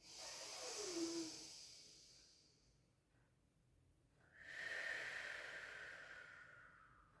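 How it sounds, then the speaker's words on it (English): Slow, deep breaths during a Pilates stretch for rehab, knees pulled into the chest: a soft breathy inhale, a pause, then a longer airy exhale, close and quiet with no talking. "Deep breathing."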